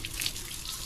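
Tap water runs steadily onto a muddy motorcycle being washed, a soft continuous splashing hiss at moderate distance, with no voices.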